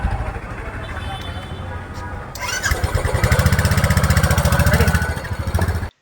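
Several motorcycles start and idle before a group ride of four bikes, the engines close and loud, revving into a steady rumble that cuts off abruptly, with voices in the background.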